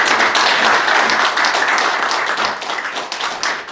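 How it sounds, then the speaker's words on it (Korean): Dense, steady applause from an audience at a retired generals' association general assembly, many hands clapping loudly and continuously throughout with no pause. "박수 한번 주세요."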